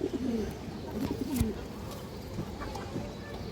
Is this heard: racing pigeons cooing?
yes